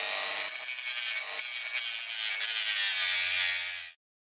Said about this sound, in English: I then took a Dremel and just cut a tiny little hole inside of it.